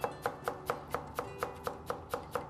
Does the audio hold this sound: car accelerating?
no